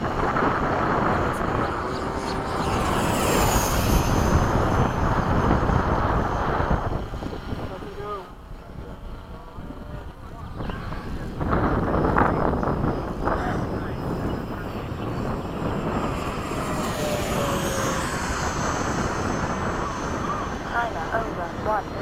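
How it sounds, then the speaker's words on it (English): F-5 and F/A-18 jets make a fast low pass at an air show, a loud broadband jet roar swelling and fading over about twenty seconds, with a brief quieter dip midway, while people talk over a radio or loudspeaker. "Okay, fast low pass from the right."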